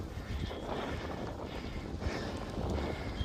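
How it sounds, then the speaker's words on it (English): Strong gusty wind buffets the microphone while riding a bike through a London park near the Serpentine lake, a continuous loud rumbling roar with surges, no voices. "It's quite windy today, as you can probably hear."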